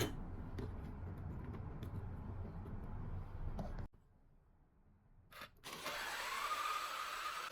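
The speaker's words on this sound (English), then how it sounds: "I'm grinding 16 grams of beans with each grinder." Two coffee grinders, a HiBREW G5 and a DF64v with 64mm flat burrs, each grinding 16 grams of espresso beans: a steady mechanical whir, a brief quiet gap, then a brighter, louder grinding run.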